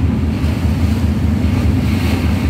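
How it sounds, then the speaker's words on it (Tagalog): Star Ferry crossing Hong Kong harbour from Wanchai to Tsim Sha Tsui: a loud, steady rumble of engine and water with wind buffeting the microphone, continuous throughout and with no voices. "nakasakay tayo sa ferry at tatawid tayo ng isla"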